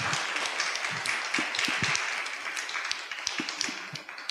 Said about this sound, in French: vous pouvez applaudir si vous voulez applaudir